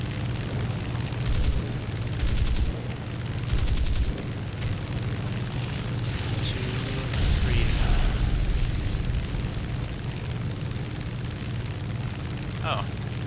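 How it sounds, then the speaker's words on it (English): Rockets bursting in a World War II tank game featuring the M4 Easy 8, M36 Jackson and M22 Locust: a few heavy booms and bursts over a continuous low rumble of battle, with a voice talking throughout. "Oh, we have more rockets than I thought."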